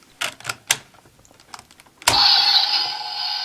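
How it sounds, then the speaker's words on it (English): A few sharp plastic clicks, then a loud electronic hum-like standby tone starts abruptly and holds steady from a DX Kiwami Lock Seed toy. "This will start a standby noise."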